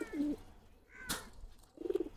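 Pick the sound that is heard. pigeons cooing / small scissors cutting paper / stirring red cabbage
pigeons cooing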